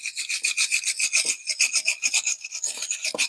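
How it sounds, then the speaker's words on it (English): A part on a 2012 Impala LTZ scraped clean, with rapid rhythmic rasping strokes, harsh and up close, repeated steadily without pause and with no voices. "I'm going to scrape this side as well"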